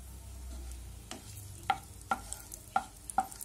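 Two or three bay leaves frying in hot oil for a potato and jackfruit masala curry, with a soft sizzle under several sharp clicks of a spoon stirring against the pan.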